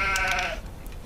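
Sheep bleating on a farm, a single drawn-out wavering bleat heard fairly close, fading into quieter background noise, with no talking.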